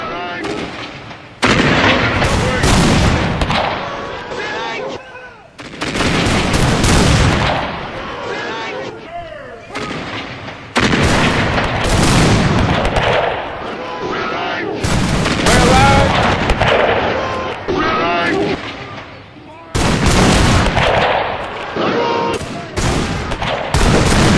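Gunfire in an Anglo-Zulu War video game battle at Rorke's Drift: dense, loud rolling volleys and booming rifle fire in sustained bursts with brief gaps, explosive cracks overlapping throughout.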